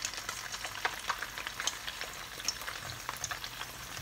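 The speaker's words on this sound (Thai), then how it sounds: "ทอดอย่างนี้จ้ะ" Battered food deep-fries in oil with a soft, dense bubbling sizzle and scattered light crackles, steady and fairly quiet at close range, with no talking.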